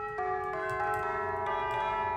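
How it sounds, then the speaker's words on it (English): Tubular bells from a free Christmas VST plugin, several clear sustained bell strikes at a steady pace with long ringing tones overlapping, played close and alone. "starting with tubular bells"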